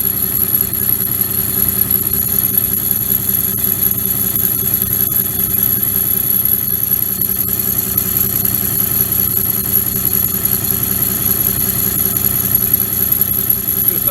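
Elliot 14S lathe turning a bull gear shaft of about 5 1/4-inch diameter at just over 300 RPM, giving a steady, continuous machine hum and drone with a constant high whine, unbroken for the whole stretch and with no talk.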